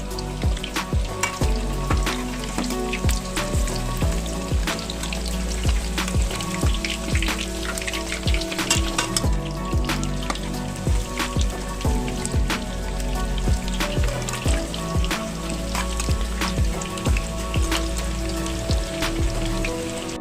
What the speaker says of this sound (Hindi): दूसरी तरफ भी फ्राई करेंगे